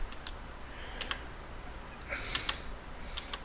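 A handful of sharp keyboard clicks in sparse bursts, with a quick cluster of keystrokes near the middle, over a quiet room hum.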